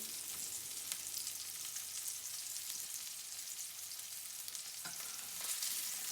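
Salmon fillet searing in a hot pan over medium heat, a steady close hiss of sizzling oil and fat running throughout with a few small pops and crackles, no voices.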